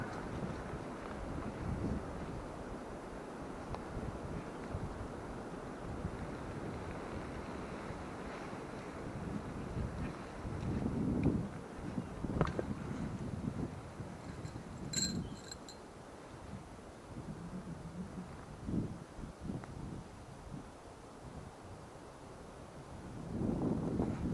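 Strong gusty wind roaring steadily through a hardwood forest, with broad rushing swells that rise and fall in loudness over a constant blustery background.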